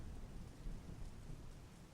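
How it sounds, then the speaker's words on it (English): Soft, steady rain with a low rumble of thunder underneath, faint and even throughout with no voices. "The rain's beautiful."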